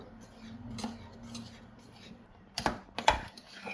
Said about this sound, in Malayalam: കട്ട പിടിക്കാതെ ഇളക്കിക്കൊണ്ടേ ഇരിക്കണം.